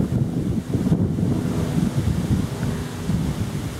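Wind and waves on the Gulf of Finland on a windy day with whitecaps: steady surf wash under heavy gusts buffeting the microphone, a constant loud roar with no talking.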